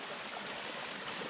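A mountain stream runs steadily beside the Timberline Trail on Mount Hood, a continuous broadband rush of flowing water that stays even and close throughout with no voices.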